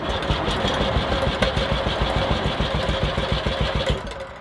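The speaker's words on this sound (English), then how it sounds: "That's firing over. Obviously there's no petrol in it, so it's not going to fire up" A tractor engine with no petrol in it cranks over without starting, a rapid, even, chugging turnover that stays close and loud for the whole stretch before easing off at the end.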